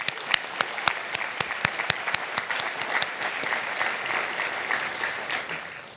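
A breakfast awards audience gives a round of applause: sharp individual claps stand out near the start, then merge into a dense, steady wash of clapping that holds loud for the full stretch.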